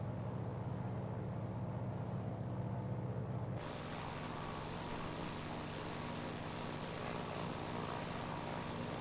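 Aircraft engine droning steadily in Microsoft Flight Simulator, a continuous broadband roar that shifts in character partway through as the engine is brought back, loud and unbroken with no talking.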